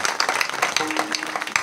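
Audience at a Marathi kirtan clapping for the mridang and pakhawaj players, a dense, close burst of applause under a faint sustained tone, lasting under two seconds.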